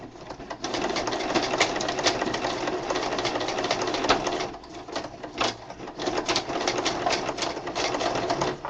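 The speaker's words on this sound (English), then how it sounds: "I'm going to kind of sew towards the upper half of this last strip" A sewing machine stitches a strip of a mixed media album, running close in a fast, steady mechanical whir with rhythmic needle clatter and a few brief pauses.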